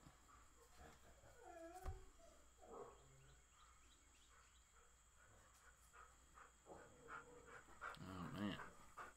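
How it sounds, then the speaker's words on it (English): A puppy panting and whimpering close by in a quiet room, with soft rhythmic breaths and short high whines scattered through, mixed with a person talking. "He's a puppy. And he likes to bark at the world."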